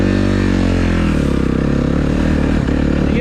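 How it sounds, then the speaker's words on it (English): A 2023 Suzuki RMZ250 dirt bike engine and exhaust, loud and close, with a deep harmonic drone that dips in pitch as the revs settle, then a rougher idle. "Exhaust is probably the best thing on this bike. It's not overly loud, but it's just a nice sound."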